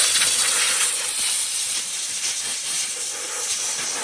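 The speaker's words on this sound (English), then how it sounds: "Now there's just no replacement for a little high pressure air." High-pressure compressed air from an air compressor blasts out in a loud, close, continuous hiss during sawmill maintenance, with no talking.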